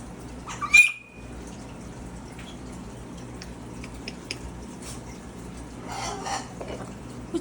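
A pet macaw gives one sharp, loud squawk near the start, followed by quieter rustling and faint clinks in a calm indoor room.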